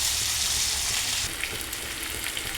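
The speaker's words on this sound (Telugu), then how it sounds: "చూడండి, మెంతి కూర అనేది బాగా ఫ్రై అయింది." Fenugreek leaves and onion fry in hot oil for a methi curry, giving a steady, close hiss of sizzling that eases slightly partway through and carries on alone without talk.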